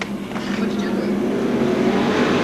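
Number 8 stock race car accelerating at Seekonk Speedway in 1994, a loud continuous engine roar from the track with a faint voice underneath.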